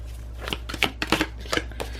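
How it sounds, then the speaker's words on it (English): A deck of tarot cards is shuffled by hand, giving a quick run of crisp riffling flutters and soft slaps close to the microphone, with no voices. "it feels electric in my hands when I'm shuffling"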